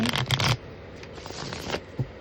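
A deck of tarot cards is shuffled by hand in quick riffling bursts, loud and close at first, then softer, scattered shuffles and taps.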